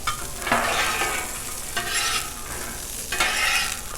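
Crab cakes fry in oil on a Blackstone griddle, a steady close broadband sizzle that swells in three bursts as pieces are set down, with no voices.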